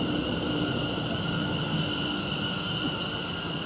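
Greater Anglia electric train, unit 720 538, standing at Chelmsford station on a London Liverpool Street to Colchester Town service, giving a steady humming drone with a high whine, constant and fairly near.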